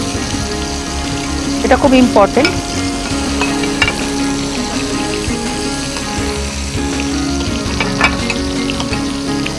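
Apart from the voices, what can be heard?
prawns frying in a pan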